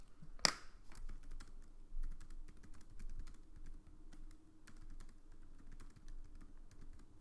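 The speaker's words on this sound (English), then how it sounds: "let's type it out" Steady typing on a computer keyboard, with quiet, close key clicks in a continuous run and one sharper tap near the start.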